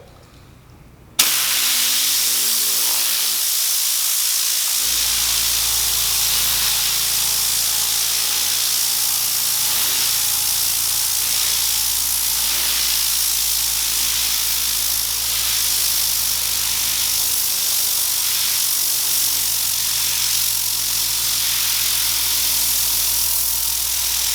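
A Harbor Freight ultra quiet air compressor kicks on with a low steady motor hum while an air tool hisses loudly and continuously, the hiss starting abruptly and lasting throughout.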